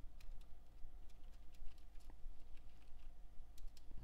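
Keys clicking on a computer keyboard, a steady run of light, quick taps at low volume with a few sharper presses standing out, no voices.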